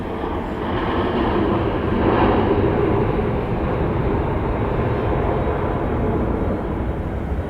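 A landing airliner at Dallas Love Field rolls out with spoilers up and thrust reversers deployed, giving a steady, moderately distant broadband jet roar that swells slightly early on and then holds evenly, with no voices.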